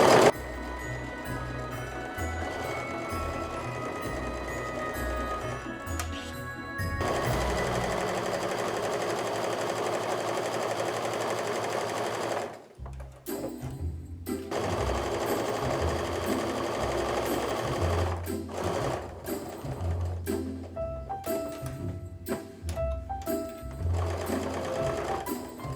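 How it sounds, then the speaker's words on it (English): Sewing machine stitching a canvas apron along a narrow seam, a rapid steady mechanical whir running in bursts with short pauses between them, close and fairly loud, with faint handling noises. "I am going to start just a tad bit above and then just stitch all the way down."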